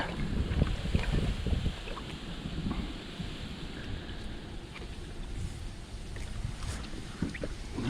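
Strong wind at a riverside, buffeting the microphone in heavy low rumbling gusts that ease off midway and then rise again, continuous and loud, with no voices.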